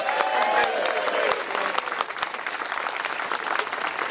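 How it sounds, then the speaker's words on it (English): Applause and cheering from a magic festival audience welcoming a performer, a burst of crowd noise with a brief raised voice at the start, thinning into scattered claps. "Clapping and cheering and stuff."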